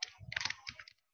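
Quick run of close keyboard keystrokes typing an image file name, about a dozen crisp clicks in a short burst, alone and without talk.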